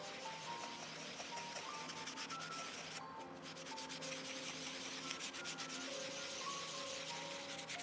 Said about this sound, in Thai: พยายามขัดให้เป็นวงๆนะ